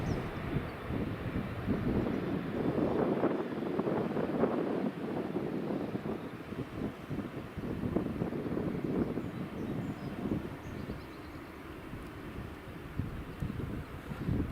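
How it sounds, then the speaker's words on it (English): Eurowings airliner taxiing out at Edinburgh Airport, a steady distant engine rumble mixed with wind buffeting on the microphone, continuous and fairly faint. "Eurowings taxiing out."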